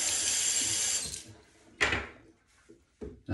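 Tap water runs steadily for washing a face, then stops, followed by a few close splashes and handling knocks.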